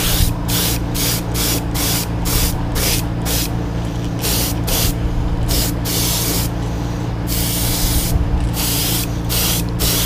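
Aerosol clearcoat sprayed onto a crawfish popper fishing lure: a steady close hiss broken into short bursts, several quick puffs in a row, then longer passes with brief pauses, no talking.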